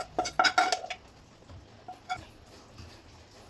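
Fried prawns stirred in a metal pan for a prawn biryani, with a few quick clinks and scrapes of a utensil early on, then quieter faint scraping.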